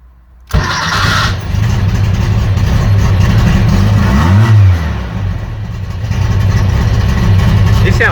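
A custom car's freshly upgraded engine cranks, catches and settles into a loud, steady idle with a brief rev in the middle, close by and continuous throughout.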